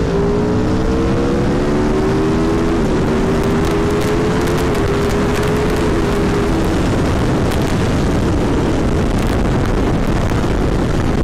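A motorcycle engine at an FFMC motorcyclists' demonstration in Clermont-Ferrand roars loudly and close by, its revs rising over several seconds before settling into a harsh, sustained blare.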